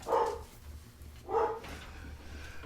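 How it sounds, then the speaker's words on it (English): Dogs barking in the background behind a closed studio door, two muffled bursts of barks about a second apart, fairly faint and distant in an otherwise quiet room. "I apologize about the dogs barking in the background."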